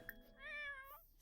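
A single soft cat meow from The Sims 4, a short rising-and-falling cry lasting under a second, quiet and clear with no talking over it.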